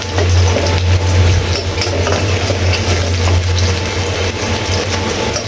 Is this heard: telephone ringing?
no